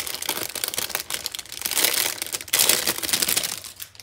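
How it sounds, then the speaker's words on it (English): Plastic wrap is peeled and crumpled off a Lilo and Stitch box. Loud, close crinkling and tearing crackles come in irregular bursts and run continuously, with no talking. "I am gonna have to unwrap the plastic from it."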